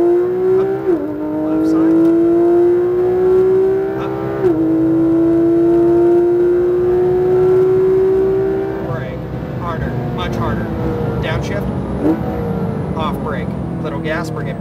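A Porsche GT3 RS engine climbs steadily through the revs on a Las Vegas track, loud and close from inside the car, with crisp gear shifts and a later drop to lower, choppier engine noise; an instructor talks over it.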